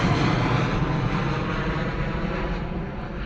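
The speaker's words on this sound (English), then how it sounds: "Gorgeous departure from the Ryanair 737." A Ryanair Boeing 737 departs Bristol Airport with a loud, steady jet roar that rumbles in the low end and holds constant throughout, heard close and alone with no talk.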